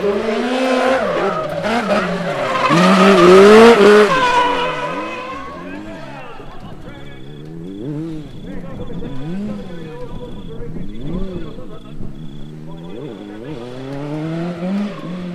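A racing quad bike on tarmac at a hill climb event revs hard through changing gears, its engine note rising and falling continuously while someone talks over it.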